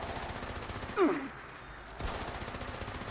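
Rapid automatic gunfire from a weapon in Fallout 76, a short burst of repeated shots with a sharp onset, fairly close and moderately loud over steady game background noise.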